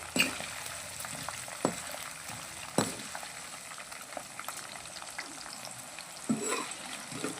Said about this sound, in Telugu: ఒక పది పదిహేను ఎండుమిర్చి అనమాట మాడిపోకుండా చక్కగా ఫ్రై చేసుకోవాలి